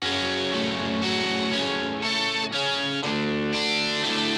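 An electric guitar runs through an Electro Harmonix Micropog octaver into a dirty Kemper crunch profile, a dense, loud, distorted tone with rhythmic chord changes roughly every half second and no talking.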